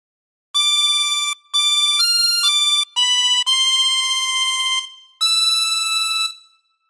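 A chromatic harmonica plays a phrase of Silent Night as a handful of clear, sustained reedy notes separated by short breaths, loud and close with no talking.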